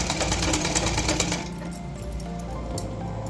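A sewing machine stitching the lower part of a blouse lining runs in a steady, fast mechanical whir, loud and close, easing slightly partway through.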